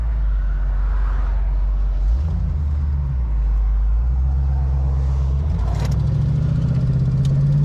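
A 5.0 Foxbody Mustang launches from a standstill, its engine a loud, deep rumble that climbs in pitch and intensity through the run.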